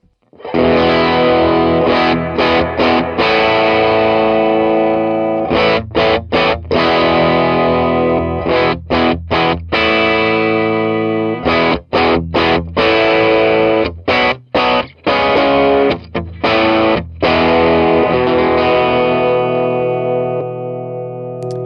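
A boosted, distorted electric guitar through an Otis Amps Trudeau amplifier plays chords with short pauses between strums, thick sustained tones ringing out loudly.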